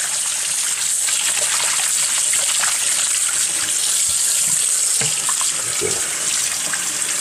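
Tap water runs steadily and loudly into a sink while conch meat is washed, a constant rushing stream with faint handling sounds and no talk.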